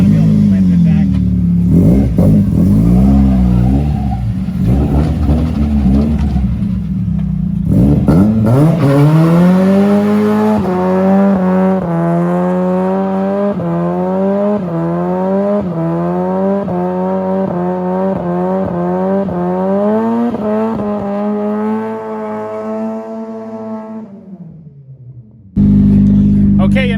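A Mazda Miata doing a burnout, its engine revving loudly and repeatedly climbing in pitch through sustained acceleration, with rough tire noise and occasional voices before it cuts off abruptly.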